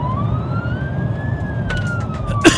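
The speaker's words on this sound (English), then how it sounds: "The sirens of the police cars can be heard approaching." Police car sirens in a driving video game wail in a steady rising and falling tone over a constant engine rumble, sounding moderately close, with brief sharp clatters near the end.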